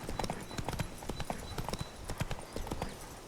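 Hooves of Roach, Geralt's horse in The Witcher 3: Blood and Wine, clip-clopping steadily at close range in a brisk, even rhythm with no talk over it.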